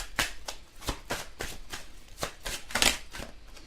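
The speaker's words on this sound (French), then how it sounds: "Donc on va ressortir des cartes." Tarot cards being shuffled by hand, a series of sharp riffling bursts at an uneven rhythm, close and fairly quiet, with no talking.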